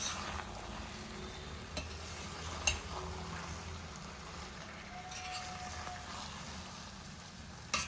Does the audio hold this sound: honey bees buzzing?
no